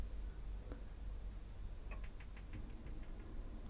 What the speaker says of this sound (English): You'll hear a bit of a ticking and then a slight burning of the gas noise.